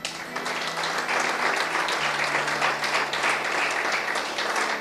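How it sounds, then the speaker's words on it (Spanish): A church congregation applauds the Lord, a dense, even wash of clapping sustained at moderate loudness for several seconds with no voices over it. "¿Cuántos aplauden al Señor?"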